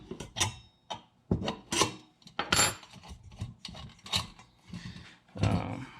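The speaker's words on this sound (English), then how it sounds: "This uses a 7/16 wrench on the nut. Simply remove that." A 7/16 wrench turning a nut off a Coleman 200A-style lantern, close-up metallic scraping and ratcheting rasps in short uneven bursts with brief pauses between strokes.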